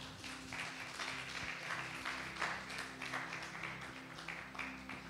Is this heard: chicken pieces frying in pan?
no